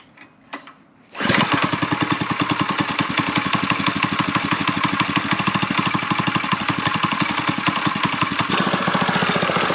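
A Coleman CT100U mini bike with a swapped-in Predator 212 engine starts after a brief rattle and settles into a loud, steady single-cylinder chug with a rapid, even firing rhythm for the rest of the clip.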